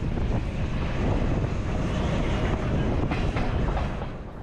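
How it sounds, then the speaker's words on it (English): The El Chepe train, a 14-coach, 500-metre-plus consist hauled by three locomotives, rumbles along with continuous rail noise and clickety-clack, recorded on board with wind buffeting the microphone. "Look at our 3 locomotives snaking off into the distance, hauling this 14 coach 500 metre plus train."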